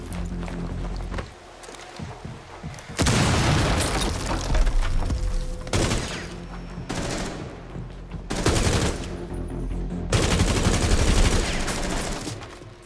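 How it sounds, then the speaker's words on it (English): Gunfire in Rainbow Six Siege tearing through breakable wooden and vinyl floors: loud repeated bursts of shots with booming impacts, separated by short quieter gaps, no talking. "Many floors can be partially broken and shot through."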